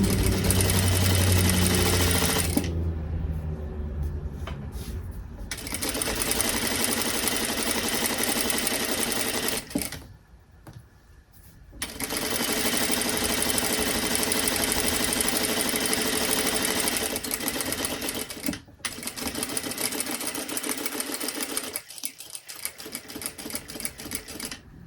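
A sewing machine stitches a long ruffle on a frilled garment, whirring steadily and close in extended runs, with a few brief stops and restarts.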